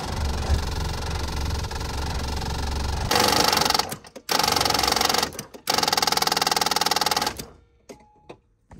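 Starter motor of a Toyota Land Cruiser 80 cranking in loud, close, buzzing bursts of a few seconds each, broken by brief stops, over a steady background hum.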